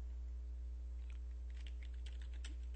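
Computer keyboard typed on while entering labor figures into estimating software, heard as a few faint, scattered key clicks over a steady low hum.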